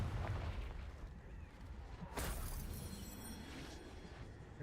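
A fire-blast spell explosion in the video game Hogwarts Legacy: a dull explosive boom with rumbling tail and a sharp burst midway, distant-sounding and muffled beneath steady low game ambience.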